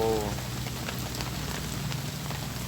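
Steady rain falls on surfaces outdoors as a dense, continuous patter of drops, with a brief low tonal hum at the very start and no voices.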